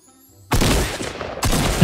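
Loud close gunfire in the Fortnite video game, two dense rattling bursts, the first about a second long and the second starting after a brief gap.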